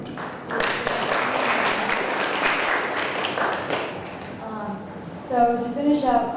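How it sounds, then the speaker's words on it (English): An audience applauds student presenters in a steady round of clapping lasting several seconds, then fades as a voice begins speaking near the end. "Let's give another round of applause."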